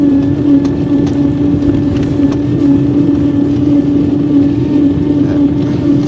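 A 1903 Columbia Electric car driven flat out on a top-speed run, a loud, steady hum with a constant whir and wind rush throughout, close, with no talking.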